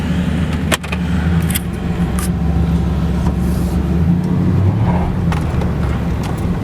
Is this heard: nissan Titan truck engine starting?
yes